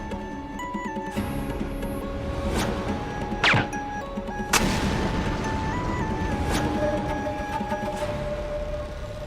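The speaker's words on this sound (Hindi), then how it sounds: "ये पटाखा किसने फोड़ा?" Sharp firecracker bangs burst in a courtyard, one loud crack near the middle and another soon after, with fainter pops and a steady background hum throughout; no talking.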